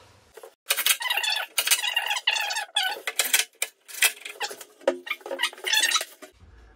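A screwdriver drives screws into a door hinge during fitting of a garden room door, giving bursts of high whirring and squealing with short pauses between them, close and fairly loud.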